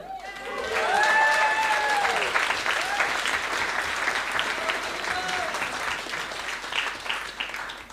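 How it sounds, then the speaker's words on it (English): Full audience applause at a comedy club gig swells quickly after a few voices and cheers, then stays as a steady dense roar of clapping, gradually thinning toward the end. "so round of applause"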